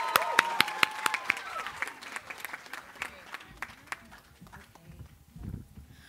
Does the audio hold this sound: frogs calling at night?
no